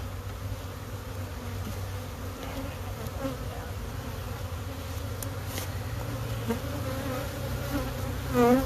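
Honey bees buzzing around an open hive, a dense continuous hum of many wings close by, steady throughout with a few louder passes near the end.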